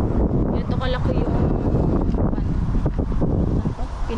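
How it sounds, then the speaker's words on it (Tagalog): Strong typhoon wind sweeps across an outdoor vegetable garden, a loud, continuous rushing roar with rumbling gusts buffeting the microphone throughout. "malakas yung hangin"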